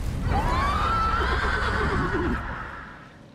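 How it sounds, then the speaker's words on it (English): A dead horse in the video game Lords of the Fallen gives a single loud, drawn-out whinny that rises and then slowly fades over a low rumbling game backdrop. "he's on a horse. On a dead horse."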